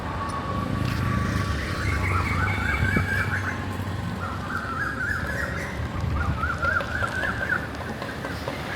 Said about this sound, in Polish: Słyszycie te ptaszki?